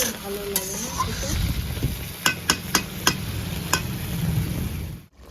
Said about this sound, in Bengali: 3-4 মিনিট আলু কষে নিলাম গ্রেভির সঙ্গে।